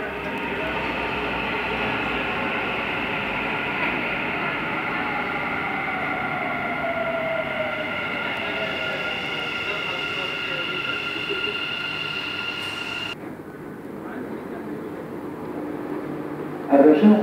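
A Dubai Metro train rumbles and hums steadily along a platform as it arrives, with a long, sustained whine from the wheels before it cuts off near the end.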